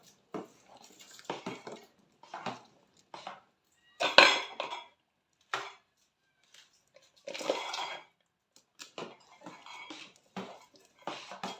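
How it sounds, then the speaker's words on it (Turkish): Sauce for a winter tomato pickle being stirred in a pot, with clinking dish and utensil sounds arriving in short separate bursts and quiet gaps between them, no one talking. "şimdi böyle bir sosumu karıştırmak istiyorum ve ilave edeceğim"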